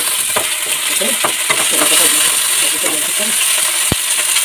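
Bay leaves, cinnamon, cloves and cardamom sizzle steadily in hot oil for a fish curry, with scattered crackles and pops and one sharp click near the end, close and fairly loud.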